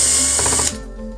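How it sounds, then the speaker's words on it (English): A power screwdriver whirs briefly and loudly as it removes a screw from an EdenPURE heater, then cuts off abruptly, leaving a faint hum. "You're going to start by removing the front 3 screws"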